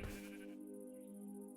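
A sheep in the Minecraft video game lets out a single bleat, a wavering, nasal cry at moderate volume with nothing else sounding around it.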